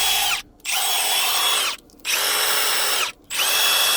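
A Milwaukee impact tool runs in three long, loud bursts close by, each a high-pitched motor whine that winds down into a short pause before starting again.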